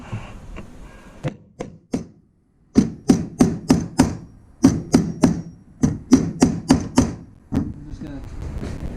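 Screw heads on a homemade boat rod holder get tapped with a hammer in a fast run of sharp, close knocks, some grouped in quick bursts and separated by short pauses.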